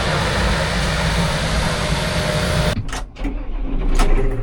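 A tractor coupled to a baler idles while warming up, its engine a steady, close, rumbling drone that suddenly drops away, followed by a few clunks and a rougher return of the running noise.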